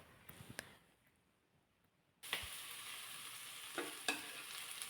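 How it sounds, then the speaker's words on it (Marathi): A spiced soybean, besan and yogurt mixture dropped into hot oil in a kadhai: after a quiet start a sudden loud hiss erupts and settles into a steady sizzle with a couple of clanks. "कढई गरम करायला ठेवली नंतर त्यामध्ये दोन चमचे तेल घातलेलं आहे आणि तेल घालताना असं पूर्ण साईडने पसरून घालायचे आणि त्यामध्ये हे सोयाबीनचं मिश्रण घालायचं आहे"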